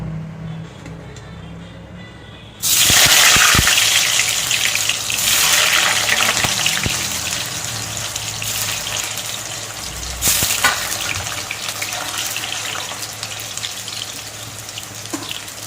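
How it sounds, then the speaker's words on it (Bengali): Boiled, salted potatoes dropped into hot oil start frying with a sudden loud sizzle that continues steadily, with a second surge of crackling partway through and occasional utensil clatter, no talking. "এবার এই তেলে আমি আলুগুলো ভেজে নেব।"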